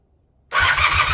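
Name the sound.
Honda CB400T Dream motorcycle engine starting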